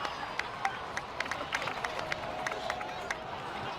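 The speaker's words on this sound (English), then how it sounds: "So, please give another round of applause for them." Faint, scattered clapping from a crowd in the video game Genshin Impact patters steadily over a soft, noisy room ambience.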